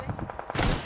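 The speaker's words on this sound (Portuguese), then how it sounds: "tá atirando em você." Gunfire in PUBG (PlayerUnknown's Battlegrounds) on Xbox: a run of several quick shots in steady rhythm, then a louder, denser burst of fire, with game sound underneath.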